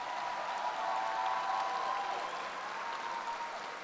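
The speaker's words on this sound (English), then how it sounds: "can we just give those kids a round of applause that are here?" A graduation crowd at a high school commencement claps for the students present, a dense, sustained wash of many hands with a faint tonal hum underneath and no pause.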